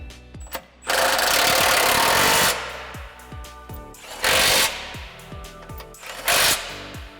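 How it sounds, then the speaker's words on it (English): An 18mm socket on a ratchet or impact tool tightening three bolts on a Jeep JLU 4xe engine skid plate: three loud, sustained mechanical bursts separated by quieter gaps, each with a harsh whirring tone. "Using your 18mm socket, tighten the 3 bolts you used to lower your fuel side."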